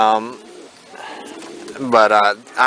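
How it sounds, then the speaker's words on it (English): Pigeons coo in a crowded loft, giving soft, throaty rolling calls close by in two bursts, with a voice faintly mixed in. "I've got too many birds in here probably"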